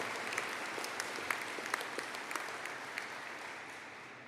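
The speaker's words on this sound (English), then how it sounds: "could I have a collective round of applause for the graduates of the Bachelor of Science in Network Management" Graduation ceremony audience applauds the Bachelor of Science graduates, a moderate wash of clapping from a hall crowd with a few sharp claps standing out, fading slightly toward the end.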